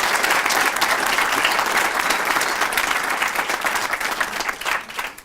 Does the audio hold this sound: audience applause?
yes